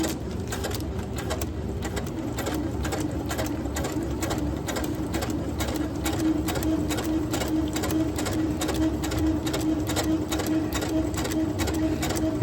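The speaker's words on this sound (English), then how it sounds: "Put a couple lock stitches in." A sewing machine runs steadily, stitching kite fabric at an even rapid rhythm and laying lock stitches, close and continuous for the whole stretch with no pauses.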